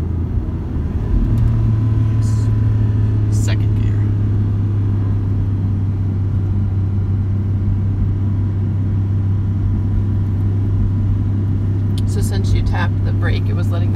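A Ford 7.3-litre Godzilla V8 pickup towing a heavy trailer down a 3% grade in second gear hums with a steady low engine drone and road rumble, engine-braking without the brakes, continuous and close inside the cab.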